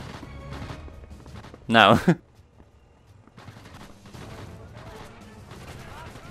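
Sniper rifle gunshots in Sniper Elite VR, one very loud sharp report near the start, with fainter shots and scattered clatter around it and a voice talking briefly.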